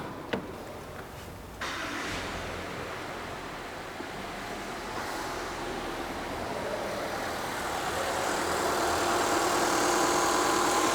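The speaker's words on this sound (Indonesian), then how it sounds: "Kalian ada yang request mau minta dengar suara mesinnya?" A 2022 Subaru Forester boxer engine starts and settles into a steady idle, a dull rumble with a broad hiss that grows slightly louder toward the end.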